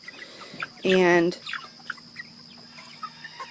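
One loud, close hen-like call rises out of a chicken flock, with soft scattered clucks around it and a faint steady hum underneath.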